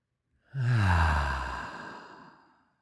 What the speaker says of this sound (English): And to then take a deep breath.